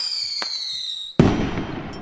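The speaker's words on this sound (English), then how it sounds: "some things like a firework blow up with a bang" A firework rising with a long descending whistle, then a single sharp bang followed by a crackling, decaying rumble, close and loud.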